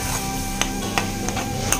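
Coriander leaves frying and being stirred in a pan, a soft continuous sizzle broken by several light scraping knocks of the spatula.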